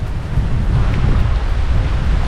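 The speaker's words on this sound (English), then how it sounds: "it's good and windy, just like it's supposed to be" Strong wind roars continuously across the microphone over a whitecapped lake, a deep steady rumble with a faint wash of water beneath it.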